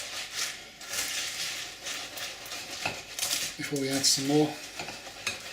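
Rice Krispies being stirred to coat them in a bowl, scraping and crackly rustling strokes repeating close by, with someone speaking briefly partway through.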